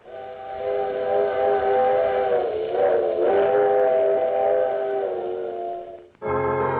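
A steam train's whistle holds a long, loud, steady harmonic tone as a radio drama sound effect, wavering slightly midway before cutting off and giving way to a rumbling train.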